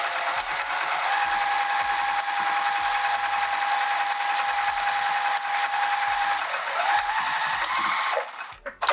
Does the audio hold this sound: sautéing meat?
no